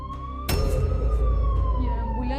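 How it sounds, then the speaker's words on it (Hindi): An ambulance siren wails at steady volume at night, joined by a sudden burst of louder noise midway and a wavering, falling tone, with faint voices underneath. "ये एम्बुलेंस की आवाज फिर से"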